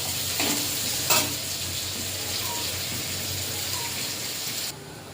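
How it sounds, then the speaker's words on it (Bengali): Onions fry in a little oil in a wok (kadai), giving a steady, close sizzle with a couple of brief stirring scrapes, before the sound drops away abruptly at the end. "পেঁয়াজটা ভালো করে ভাজা ভাজা করে নেব"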